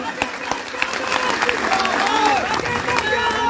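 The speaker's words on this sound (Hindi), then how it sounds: "तालियों के साथ" A crowd at a Congress party political rally in Pawta claps loudly, a dense continuous burst of applause mixed with shouts and a few raised voices, close and lively.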